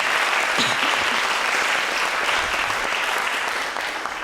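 Loud, sustained audience applause for a string quartet fills the room, a thick wash of clapping that holds steady and eases slightly at the end.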